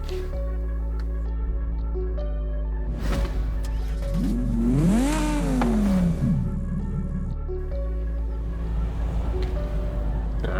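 Revving engine of a BMW M5 with a German naturally aspirated V10 in Forza Horizon 5, a steady idle drone that rises into a sweeping rev and falls back over several seconds, loud and alone.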